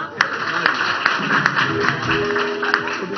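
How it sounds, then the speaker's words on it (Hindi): A studio audience on a morning TV show claps in quick, light, regular taps that run through the whole stretch, with people talking loudly over the applause. "तालियां"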